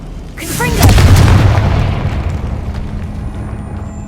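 A Confringo fire spell bursts in Hogwarts Legacy with a loud deep boom that swells quickly and then fades through a long rumbling tail, heard alone.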